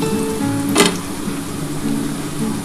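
Steady sizzle of ground spice paste dropped into hot oil over potatoes fried until reddish, with a brief sharper hiss burst near the start, continuous and close.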